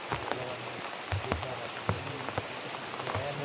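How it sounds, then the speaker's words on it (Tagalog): Rain falls steadily outdoors, with scattered drops tapping irregularly on a nearby surface over a soft, continuous patter. "kahit umulan"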